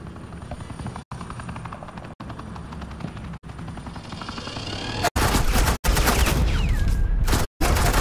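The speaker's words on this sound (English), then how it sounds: "This is Agent Quinn, suppressing fire." Sustained suppressing gunfire in a Batman Telltale game scene, a dense continuous roar of rapid shots over a helicopter-like engine drone, loud and close, swelling harsher toward the end with brief cutouts.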